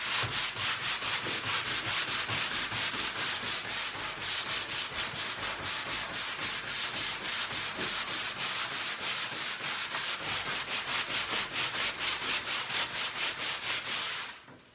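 Steady, continuous hand sanding of painted furniture, a rhythmic scratchy rubbing that keeps going close to the microphone with no speech, stopping at the very end.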